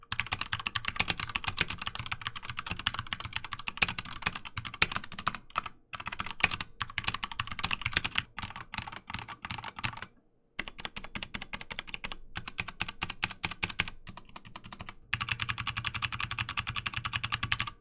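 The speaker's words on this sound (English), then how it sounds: "here's a sound test of the Akko keyboard as well." Steady, rapid clacking of an Akko mechanical keyboard being typed on up close, with a few brief pauses between bursts of keystrokes.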